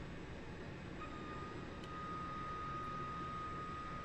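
An aircraft auxiliary power unit starts up in the flight game DCS World, a faint, steady turbine roar and whine that swells slightly partway through and holds at an even level.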